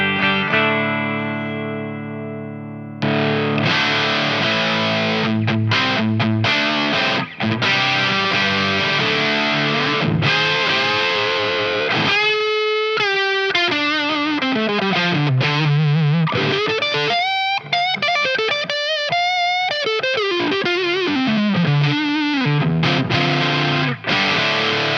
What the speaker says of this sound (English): the new Prodigal Distortion Raw Turbo. So this is going to be a model of the Turbo Rat.